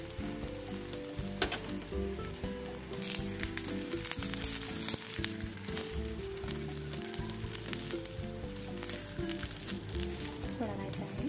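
Cucumber thalipeeth frying on an iron griddle over low heat, a steady soft sizzle with crackles and occasional spatula scrapes, a person talking over it throughout.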